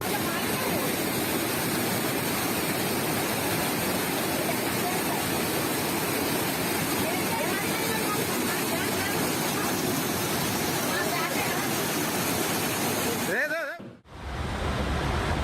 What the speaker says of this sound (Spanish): Mira esta terrible inundación en el estado indio de Kerala.